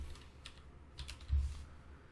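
Typing a search for SSH keys on a computer keyboard, a short burst of soft close key clicks with a slightly heavier tap near the end, quiet and without speech.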